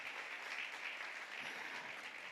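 Sustained applause from a congregation at a church celebration service, an even, dense crowd of clapping hands that carries on without a break and without speech.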